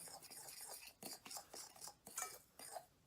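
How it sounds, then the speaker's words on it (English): A fork scrapes and clinks against a bowl while mixing bath salts scented with oils, in a series of close, light, irregular clatters. "I'm going to take my fork again and my bowl and mix it all in."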